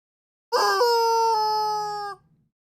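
A rubber squeeze toy chicken lets out a single loud, sustained squawk lasting over a second, a harsh honking shriek that starts abruptly, holds steady, then cuts off.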